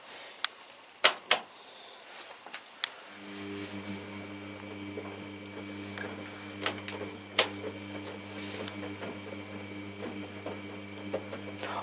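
A later-model cold-fill-only washing machine starts its rinse and spin cycle after a few sharp clicks and knocks, settling into a steady droning motor hum with occasional taps and rattles over it.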